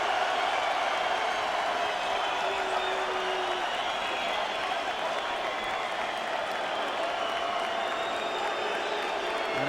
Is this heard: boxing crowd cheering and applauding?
yes